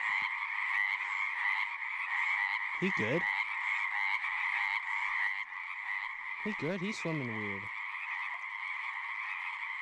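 Frogs croak in a dense, continuous chorus at steady loudness throughout, while a person speaks a couple of brief phrases over it.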